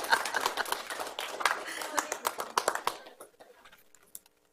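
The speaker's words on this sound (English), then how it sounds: "Y'all better clap, come on now." Audience applause at a town council meeting after a unanimous vote, a quick burst of hand claps running about three seconds and then stopping, moderately close and dense.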